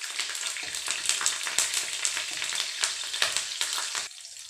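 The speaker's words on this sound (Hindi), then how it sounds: "हरी मिर्च डालेंगे। मेरी हरी मिर्च थोड़ी सी लाल हो गई थी। 10-15 कड़ी पत्ते डाल देने हैं। अब इन्हें हम सौते कर लेंगे।" Green chilies and curry leaves sautéing in hot oil, a dense, steady crackling sizzle with sharp pops throughout, close and loud, dropping off abruptly near the end; no talk.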